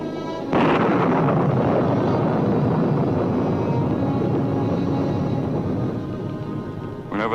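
Deep, sustained rumble of thunder rolling steadily for about seven seconds, loud and close with a broad low roar and no voices, cutting off abruptly at the end.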